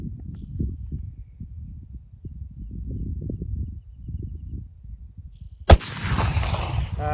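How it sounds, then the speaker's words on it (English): A single sharp, loud gunshot from a test-fired cartridge loaded with ammonium nitrate black powder cracks out close by after several seconds of low rumbling handling noise, and a rough echo trails behind it. "Two more shots."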